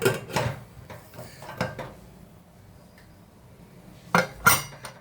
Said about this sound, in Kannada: ಕುಕ್ಕರ್ ಮುಚ್ಚಳ ಮುಚ್ಚಿಬಿಡೋಣ ಈಗ.